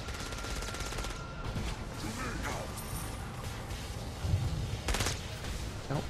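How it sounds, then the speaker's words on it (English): Gunfire in the game Saints Row: Gat Out of Hell, scattered muffled bursts and bangs mixed with mechanical clatter and a crash, under a busy layer of voices. "Don't fire your guns at me"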